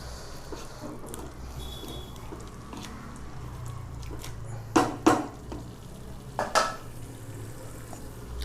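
Chili powder and curd stirred together for chicken biryani, a soft wet mixing sound with a few sharp clicks of a spoon against the pot over a low background hum.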